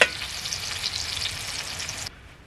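Asparagus sizzles and fries steadily in a hot pan, a dense close crackle that runs for about two seconds, then cuts off abruptly and leaves quiet.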